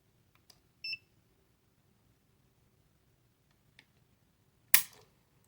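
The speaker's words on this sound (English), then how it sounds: "the more you do this dry fire or you do your trigger pulls" Dry-fire trigger pull on a Taurus GX4 pistol: one sharp, close metallic snap near the end, preceded by a short electronic beep and a couple of tiny ticks in otherwise quiet surroundings.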